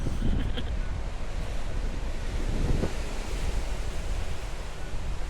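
Steady, blustery wind roars across the microphone at a beach in Hawaii, with surf rumbling underneath, continuous and loud throughout, with no voices.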